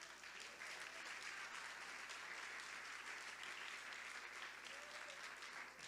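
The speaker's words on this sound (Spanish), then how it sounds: "Den un aplauso al Señor." Steady, even applause from a church congregation during a sermon, heard at a distance and fairly quiet, continuing through the whole stretch without speech.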